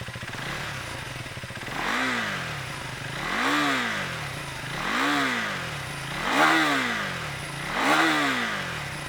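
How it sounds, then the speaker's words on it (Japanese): Husqvarna Svartpilen 401 single-cylinder motorcycle engine ticking over at idle, then blipped in five evenly spaced revs that rise and fall back, close by and with no voices. "この単気筒らしいトトトトトっていうアイドリングの音と、回すときはねブルルルンっていう回ってくれる音"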